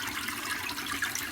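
Water flows over a miller table used for gold prospecting at a creek, with soft, steady trickling and washing. It is faint, continuous and brief, with no talk.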